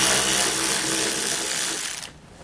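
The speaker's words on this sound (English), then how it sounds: "We're going to remove that with an 8mm socket." An 8mm socket on a ratchet loosens a fastener while a trailer hitch goes onto a 2017 BMW X3, a close, steady rasping run lasting about two seconds before stopping abruptly.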